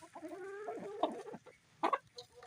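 Home farm chickens cluck in short, close bursts, with a louder pair of clucks near the end of the brief stretch.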